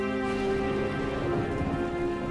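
Heavy rain pours down steadily in a continuous dense patter, close and loud throughout, with a low rumbling undertone and no voices.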